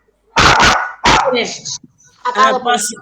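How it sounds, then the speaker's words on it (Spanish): A pet dog barks close by, two rapid barks and then a third, followed by softer whimpering yips and a short trailing bark, loud against a quiet room. "¿Era tu perro?"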